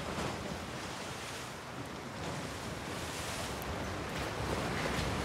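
Storm wind and wild, churning waves in The Last of Us Part II form a continuous close roar of surf and gusting air that holds steady throughout, with no voices.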